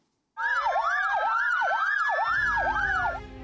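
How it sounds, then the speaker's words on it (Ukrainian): Ambulance siren wailing loudly and close, starting abruptly after a moment of silence and sweeping up and down in fast regular cycles, with a low vehicle rumble joining beneath. "протягом тижня завивали сирени карет швидкої допомоги"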